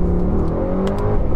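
A Mercedes-AMG GT63s launches hard from standstill, its engine note climbing loudly and steadily through the rev range, heard up close with nobody speaking.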